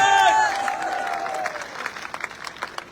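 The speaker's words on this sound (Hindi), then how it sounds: "जरा ताली बजा के बताओ।" A burst of crowd applause at a political rally, loud at first and then tapering into scattered claps, with brief voices at the start.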